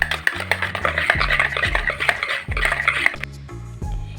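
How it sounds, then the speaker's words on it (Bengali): Sour yogurt (curd) whisked in a bowl for an eggless almond cake, with quick repeated clinks and scrapes of the whisk against the bowl, close and fairly loud, a brief pause near the end before the rhythm resumes. "টক দইটা একটু হুইস্ক করে নিচ্ছি।"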